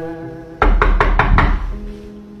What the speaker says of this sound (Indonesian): Ketukan kedua terdengar lagi.